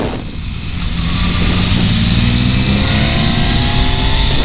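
A BMW S1000R roadster with a quickshifter accelerates hard up through the gears. The engine note is loud, close and continuous, with rising tones as it pulls through each gear.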